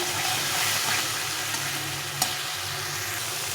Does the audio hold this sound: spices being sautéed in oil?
yes